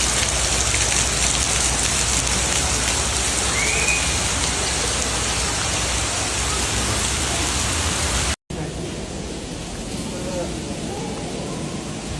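Heavy rain pours down during flooding in Brooklyn, New York, a dense, steady roaring hiss that runs throughout with one brief cut partway through.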